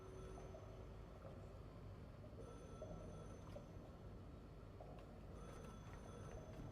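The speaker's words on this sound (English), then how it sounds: "the phone's ringing." A telephone rings in the video game The Last Caretaker, a repeating electronic bell tone over a dense, steady rumbling game background, alone with no talk.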